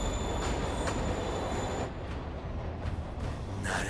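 Train rolling in Marvel's Spider-Man game, a loud steady rumble of rail wheels with high squealing tones running throughout, continuous and close.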